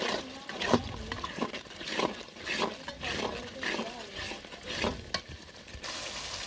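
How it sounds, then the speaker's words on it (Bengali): Spices being stir-fried in a pan for a winter curry, a steady sizzle with repeated scraping strokes of a spatula at an uneven rhythm, close and moderately loud, with speech heard in places. "মশলাগুলো কষিয়ে নিচ্ছি দেখতেছেন"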